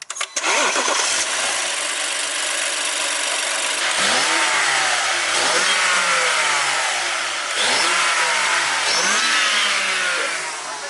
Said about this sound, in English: start it up. See if it like shakes or anything when you give it a few revs